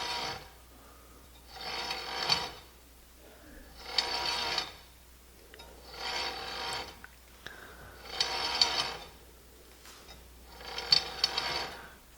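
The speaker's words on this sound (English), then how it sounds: "And I'm going to rotate my blade." A 12-inch miter saw blade turned slowly by hand, giving five or six separate bursts of dry raspy mechanical rubbing and clicking with short quiet gaps between them, close by, with no talking.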